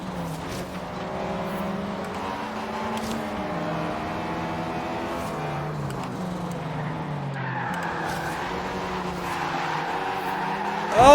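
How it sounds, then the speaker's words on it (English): Abarth 500 Esseesse engine revving under wheelspin with tyres squealing, in the Forza Horizon 3 racing game, a steady droning engine note that shifts pitch and runs throughout. "just spinning all four wheels as I come out of that corner"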